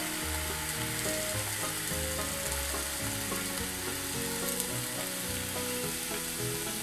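A thin homemade crepe sizzling in a hot pan just after being flipped, a close, steady hiss with soft crackle and no talking, holding even throughout.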